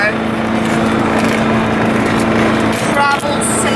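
Loud, droning engine of a small moped car roars steadily from inside the cabin, a dense, continuous buzz with a faint tonal whine, while a person talks over it.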